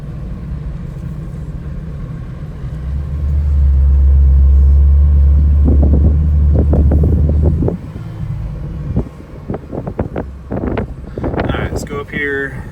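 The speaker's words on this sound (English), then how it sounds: "come to a stop and do a full throttle" A car fitted with a Hemi Hellcat engine launches from a stop at full throttle, a loud, deep rumbling roar that builds and holds for several seconds before easing off, with someone speaking around it.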